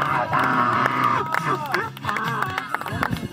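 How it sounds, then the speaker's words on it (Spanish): A lively group on a party boat tour off Cancun cheers, whoops and shouts, loud and close, with excited voices and a bit of clapping mixed in throughout. "¡Un aplauso!"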